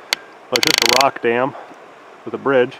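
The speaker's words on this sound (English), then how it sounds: "Excuse the noise of the tripod." A camera tripod's mechanism gives off a quick burst of ratcheting clicks near the mic, close and loud, with someone speaking briefly before and after it in a quiet outdoor setting.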